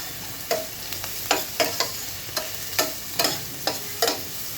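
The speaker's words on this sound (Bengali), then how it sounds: "প্রায় দুই কাপ পরিমাণ পেঁয়াজ কুচি দিয়ে দিয়ে নিচ্ছি একটু ভেজে নিব এখন" Chopped onions, about two cups, frying in a pan for chicken malai curry, with a steady sizzle broken by repeated scraping stirs of a spatula at an uneven rhythm, close and moderately loud with no talking.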